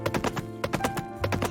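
Horse hooves clip-clop over ground in a farming video game, a quick uneven run of sharp knocks, close and clear with no talk.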